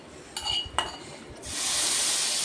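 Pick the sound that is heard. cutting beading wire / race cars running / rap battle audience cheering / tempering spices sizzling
tempering spices sizzling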